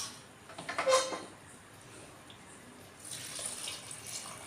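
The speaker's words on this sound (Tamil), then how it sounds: "5-6 டம்ளர் தண்ணி விட்டுக்கலாம்." Water splashes and gurgles briefly into a cooking pot for goat leg soup, then a softer running hiss of water continues later, close by.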